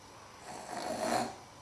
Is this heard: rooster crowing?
no